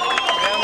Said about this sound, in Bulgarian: Вашите аплодисменти.